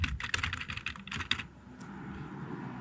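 Quick, light keystrokes on a computer keyboard as a first name is entered, a short burst of closely spaced clicks followed by quiet.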